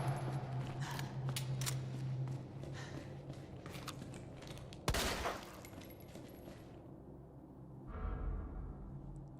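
Gunshots ring out at zombies in Resident Evil 2 Remake, several sharp reports, one of them a loud close crack partway through, over a low ambient drone without talk.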